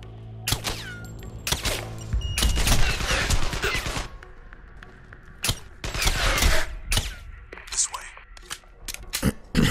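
Rapid bursts of rifle and automatic gunfire in the sniper shooter Sniper: Ghost Warrior 2, loud and close, repeated in clusters across the scene with mechanical clicks between shots and people talking over it.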